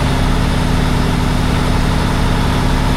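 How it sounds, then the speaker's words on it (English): The engine of a new lorry runs hard on its own with no one touching the controls, a loud, steady, close throbbing roar with a strong low rumble that holds constant throughout. "It's just revving the hell of itself. I've not touched anything, it's just started revving itself."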